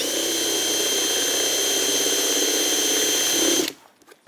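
A power drill drives washer-head screws into wood while a picture frame is built, giving one continuous, close, loud whirring whine for about three and a half seconds before it cuts off abruptly, leaving near silence.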